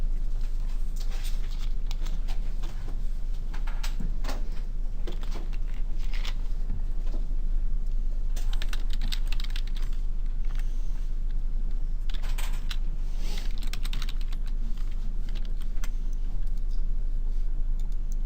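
Rapid irregular keystrokes clatter on a computer keyboard, close and steady for the whole stretch over a constant low hum, with bursts of quicker typing and short pauses and no voices.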